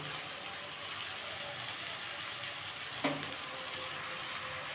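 Strips of stale roti chowmein fry in a pan with cauliflower and other vegetables, a soft, steady sizzle broken once by a sharp clack of a utensil.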